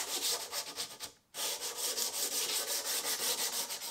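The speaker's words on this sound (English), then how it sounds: "I went over with some 120 grit sandpaper and broke all the edges" Wooden timber-frame awning brackets are sanded by hand with 120 grit sandpaper to break the edges: steady, rhythmic back-and-forth rubbing strokes, close up, with one short pause.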